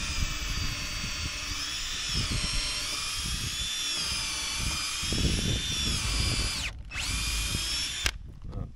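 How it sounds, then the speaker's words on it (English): A power drill whines steadily at close range for several seconds, pre-drilling wood for a roof rafter, its pitch wavering slightly, cutting out briefly near the end before starting again. "So what I'm gonna do now is just go ahead and pre-drill this."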